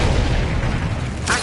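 An Incendio fire spell cast in Hogwarts Legacy on PS5, a loud, full-bodied whooshing boom that fills the moment and ends in a bright crackling flare.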